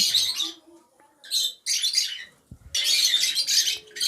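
Bursts of harsh squawks and chirps from several birds in an aviary, close by, in irregular clusters with short quiet gaps between them.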